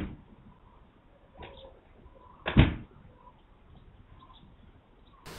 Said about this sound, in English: if we slam the shed door, we'll hear the side microphone picking it up